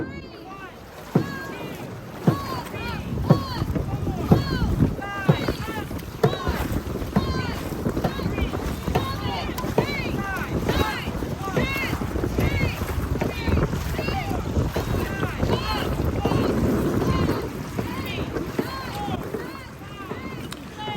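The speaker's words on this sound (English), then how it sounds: "We dig our paddles in, giving it everything we've got." Dragon boat paddles churn water in rapid rhythmic strokes as the crew drives forward, wind buffeting the microphone and voices shouting over the splashing.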